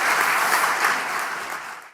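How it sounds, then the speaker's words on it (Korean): Audience applause fills the hall at a National Assembly policy forum on long-term care insurance, a steady dense clapping that holds loud for about two seconds before tapering off. "박수로 환영해 주시기 바랍니다."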